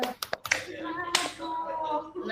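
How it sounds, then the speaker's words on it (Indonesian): Children in a classroom clap their hands in a few sharp bursts at the start, then a teacher's voice and other speech carry on over the rest. "Tepuk tangan untuk kalian semua ya"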